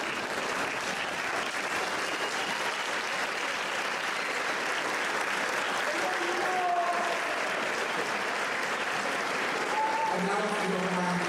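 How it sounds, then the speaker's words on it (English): Graduating students at a 2015 Scotia-Glenville High School ceremony applaud their parents, a dense, steady wash of clapping from a large audience filling the hall, with a few voices faintly mixed in. "turn around and give your parents an applause for all the hard work"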